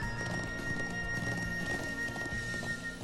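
Horse hooves clip-clopping steadily during a ride in the video game Trails of Cold Steel, with a constant high electronic tone over a moderately loud, even rhythm of hoofbeats and no talk.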